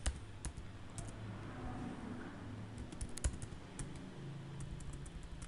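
Steady keystrokes on a computer keyboard while C# code is typed, a continuous run of soft, closely spaced clicks over a low room hum, with no talking.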